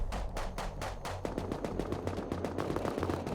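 A minicopter fires its guns in a video game, sounding as rapid, loud bursts of automatic fire that repeat steadily over a low, constant engine drone, with no talking.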